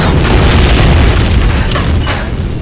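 Fireworks explode in a video game race, with dense, continuous loud booms and crackling bursts filling the whole stretch, no voices over them.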